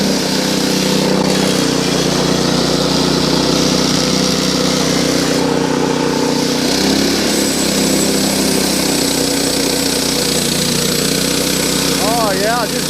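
A 7-horsepower sawmill engine runs loud and steady while cutting through a log, droning and whining continuously as people talk over it.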